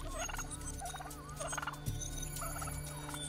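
Brush turkey calling over a busy bush soundscape, with several rapid gobbling bursts repeating at a steady pace, loud and fairly close, against continuous background birdsong and insect noise.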